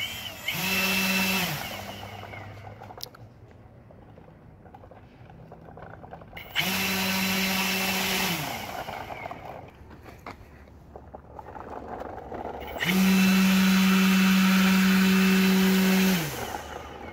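Dual prop-powered electric skateboard motors spinning up in three separate bursts, each a whining, propeller-like whir rising and holding a steady pitch before cutting off, the last burst loudest and longest, with quiet gaps between.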